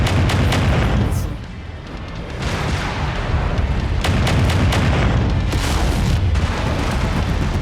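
Missile explosions in the mech combat game MechWarrior 5: Mercenaries, a loud, continuous roar of booming blasts and rumbling impacts, briefly dipping before surging again with sharp bursts.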